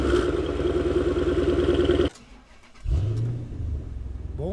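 A Dodge Challenger R/T muscle car engine roars loud and steady for two seconds, cuts off abruptly, then rises again in a deep rev that settles into a strong, rumbling hold.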